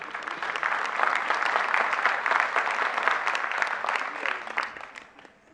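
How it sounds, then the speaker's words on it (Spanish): Audience applause after a student derbake percussion performance at a school recital, steady dense clapping from a full crowd that holds for several seconds and then tapers off at the end. "Fuerte el aplauso para ellas."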